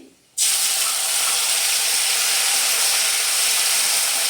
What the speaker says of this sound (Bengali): এই পেস্টটা আমি এবার তেলের মধ্যে দিয়ে দিচ্ছি।